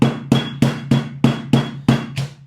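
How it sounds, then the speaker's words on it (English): A rolling pin pounds chilled Linzer cookie dough on a counter, giving eight loud, evenly spaced thuds that each ring briefly before the next strike, heard alone without talk. "Just going to kind of pound it a bit."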